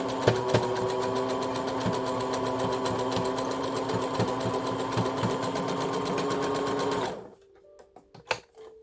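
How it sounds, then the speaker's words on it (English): A sewing machine runs a zigzag stitch along the end of a fabric bandana, humming loud and steady with a fast regular needle pulse for about seven seconds before stopping, followed by a few faint handling clicks. "I'm going to use the zigzag stitch"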